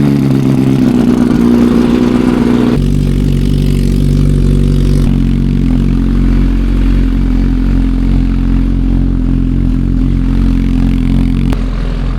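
An MV Agusta Superveloce 1000 motorcycle engine cold-starting and warming up: loud, close, sustained engine roar that shifts pitch as the revs settle into a fast idle, with one abrupt change in tone partway through and no talking.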